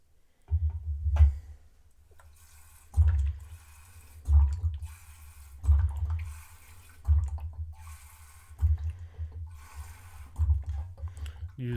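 Bottled drinking water mixed with a little distilled water is poured into the boiler of an Empire steam turbine model, heard as several short, close splashing pours separated by pauses, quiet and with no voices.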